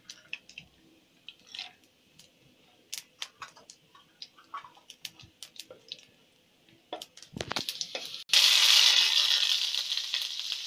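Dried chilies dropped into hot oil with cumin seeds while tempering masoor lentils, starting as faint scattered ticks and pops, then bursting into a loud steady sizzle near the end.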